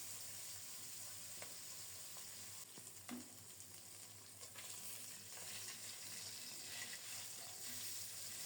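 Tengra fish, cleaned and coated in salt and turmeric, fry together in a large wok with a continuous, quiet sizzle and occasional light clicks and spatters, with no one speaking.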